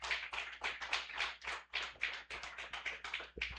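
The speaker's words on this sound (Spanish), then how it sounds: "Demos un aplauso, mis hermanos, a estos que nos acompañan." A church congregation claps for visitors, a quick continuous patter of many hands at moderate distance for a few seconds, with no talk over it.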